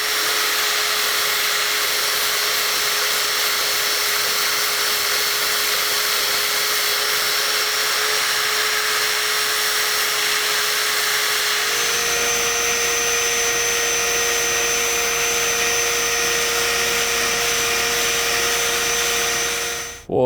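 Steady, loud whine of a power sander working a melted burl wood platter, running continuously without pause, its pitch shifting slightly partway through before cutting off at the end.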